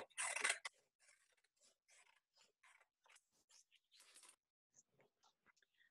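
Scissors cut along a line down the middle of an A4 paper sheet, a quiet close-up series of crisp snips and rustles, starting with one louder crunch.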